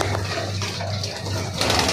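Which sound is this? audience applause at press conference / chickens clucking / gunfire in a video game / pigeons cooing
pigeons cooing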